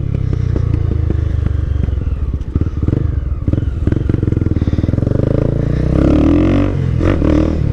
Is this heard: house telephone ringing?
no